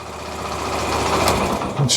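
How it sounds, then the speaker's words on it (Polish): A Yamaha YBR 125 motorcycle engine started with its electric starter, running at a steady light idle close by, with a short click and rattle near the end. "Odpalamy go normalnie tutaj starterem jeszcze raz wyłączę, załączę."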